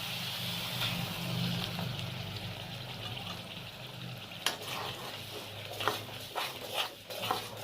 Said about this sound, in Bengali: এটা একটু নাড়ানাড়ি করে নিই